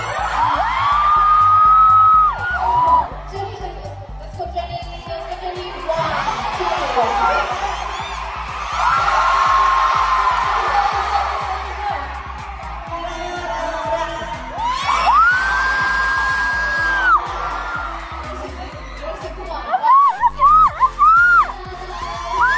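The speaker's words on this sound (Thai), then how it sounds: "บริ้งมาเก๊าเนี่ยกรี๊ดแทบโดมแตกไปเลยนะจ๊ะ" Concert crowd at a show in Macau, roaring and shrieking in loud swelling waves with whoops, bangs and high piercing screams rising and falling across the arena.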